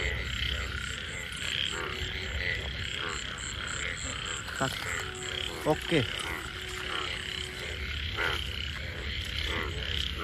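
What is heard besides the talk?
frogs croaking at night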